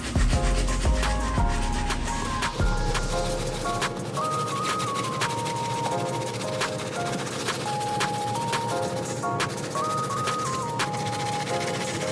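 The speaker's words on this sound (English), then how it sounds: "this one's gonna really scrub them stains out of it" Medium-stiff brush scrubbing foamed-up stains and stitching on Air Force 1 sneakers, a steady close rubbing texture running throughout under faint background music.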